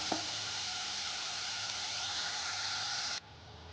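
Coconut filling for puli pitha, with chopped nuts, sizzling and frying in a pan, a steady close hiss that cuts off abruptly near the end, with no talking.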